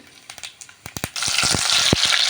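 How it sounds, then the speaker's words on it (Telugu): Mustard seeds dropped into hot oil in a pan, a few light taps then a sudden loud, steady crackling sizzle with sharp pops, close and continuous, no voices. "ఇలా ఆయిల్ కొంచెం వేడెక్కిన తర్వాత దీంట్లో తిరుమాత గింజలు వేసుకుంటున్నామండి."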